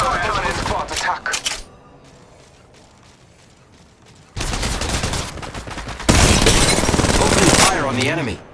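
Enemy gunfire in Apex Legends Mobile, loud bursts of rapid automatic shots, a dense spell of firing, a near-quiet gap, then heavy sustained volleys returning at full loudness.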